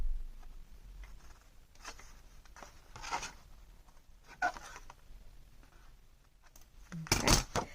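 Scissors snip away a small paper panel from a 6x6 matchbook-style mini album, with soft rustling and scraping in a quiet room before a louder, crisp cutting burst near the end.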